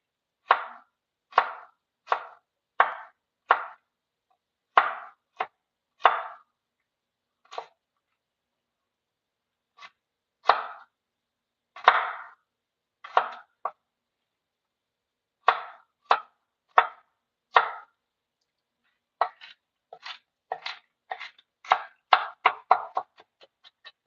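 A knife dicing garlic on a cutting board for chili, sharp close chopping taps in irregular bursts with short pauses, ending in a rapid flurry of quicker strokes, no talking.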